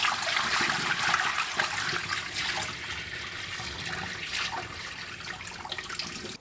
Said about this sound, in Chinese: 我们倒入清水， 先给它冲洗干净，去除表面的灰尘